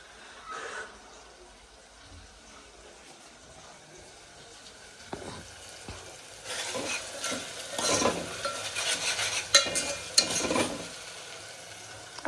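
Hot oil sizzles and crackles in a pan as dal is tempered, building louder partway through with stirring clatter, no talking.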